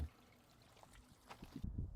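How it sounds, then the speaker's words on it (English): Water trickles and gurgles as it drains out of a pool filter cartridge tank, faint at first and then growing into louder splashing pours near the end. "Now we can just let all that water run out."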